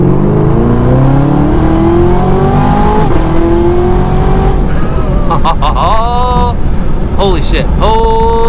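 A 650 HP supercharged Chevy Camaro ZL1 accelerating at full throttle, engine pitch climbing loudly through several gear changes, rising roar cut by shifts, with a voice talking over it from inside the car.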